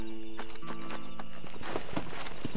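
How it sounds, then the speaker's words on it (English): A horse in the video game Red Dead Redemption 2 whinnies and clip-clops close by, a shrill neigh over a brisk, steady beat of hooves. "What's the matter with you, horsey?"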